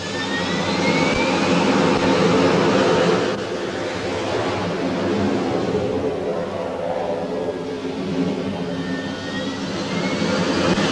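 Harrier jet engine on a carrier flight deck during the 1982 Falklands War, a loud continuous roaring whine with a steady low rumble and rising tonal sweeps, close and sustained.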